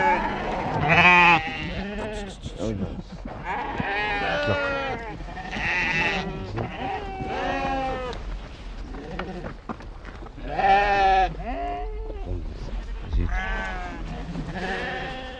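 A flock of Timhadit sheep on a mountain farm bleats repeatedly, with several overlapping calls near and far rising over a low background, and a voice talks beneath the flock.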